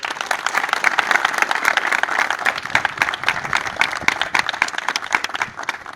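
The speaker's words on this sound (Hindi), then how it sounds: "तो मैं चाहूँगा एक बार जोरदार तालियां हो जाए." Loud, sustained applause from an audience at a Hindi-language motivational event, dense clapping filling the whole stretch at a steady level with no break.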